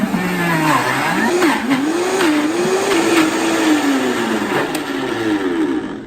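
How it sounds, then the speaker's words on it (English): A Vitamix high-speed blender churns frozen ice cream while a tamper presses it down, a loud steady whir whose pitch sags and rises as the mixture thickens and catches, running continuously and alone. "We are using a Vitamix high-speed blender, and we're gonna use the tamper as we make the ice cream."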